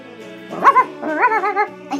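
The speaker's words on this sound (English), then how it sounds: "Here's another dog." A toy dog yips and whimpers in a few short, pitched bursts near the mic, with a brief quiet gap before a final yelp.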